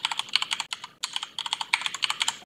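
Fingers type a password on a computer keyboard: quick, crisp key clicks in close, uneven bursts, with one brief pause partway through.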